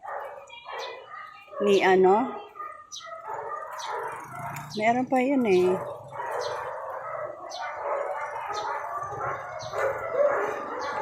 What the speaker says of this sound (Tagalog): daming aso rito.